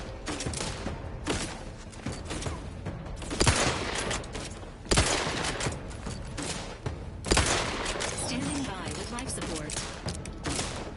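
Gunfire from a weak gun in The Outer Worlds 2, a steady stream of crackling shots with a few heavier booming bursts standing out, dense and continuous throughout.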